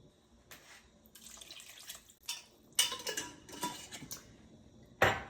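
Liquid poured into a pot of veggie beef soup, splashing and trickling in uneven bursts with a sharper splash near the end, close and fairly quiet with light clinks of the pot.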